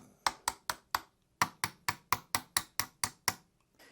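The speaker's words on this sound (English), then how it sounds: "Take a hammer and just tap them in a little bit." A hammer taps pins into the receiver of a Henry Homesteader brushed bronze 9mm carbine: about fourteen sharp, close metallic taps in two quick rhythmic runs, each ringing briefly, with no talking.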